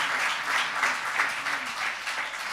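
A church congregation claps in praise during a sermon, a brisk, even patter of many hands at moderate distance that continues throughout.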